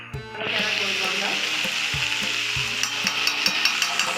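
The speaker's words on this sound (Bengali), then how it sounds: "তার কাছে যে বরবটি এবং আলু কাটা ছিল আমরা দিয়ে দিলাম। এগুলো একটু নাড়বো চাড়বো" Chopped yardlong beans and potatoes fry in a hot wok, sizzling loudly and continuously while a spatula scrapes and stirs with regular rhythmic knocks against the metal.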